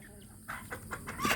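A chicken, one of several tied up outdoors, gives a few short clucks in quick succession over a low background hum, close by and moderately loud, ending in a sharper squawk-like note.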